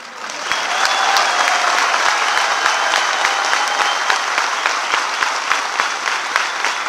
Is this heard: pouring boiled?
no